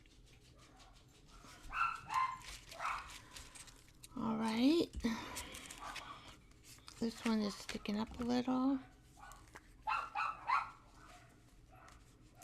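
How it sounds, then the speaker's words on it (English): Dogs barking out in the neighborhood, a few short yips and barks rising in separate bursts between stretches of someone talking close by, with keys jangling faintly. "Oh, other dogs in the neighborhood."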